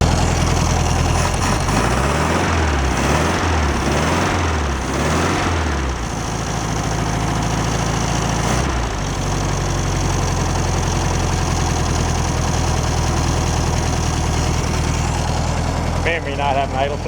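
A 1966 VW Beetle engine runs roughly at idle and seems to struggle with its carburetor: a steady, loud, low rumble with some uneven pulsing near the start. Someone talks over it.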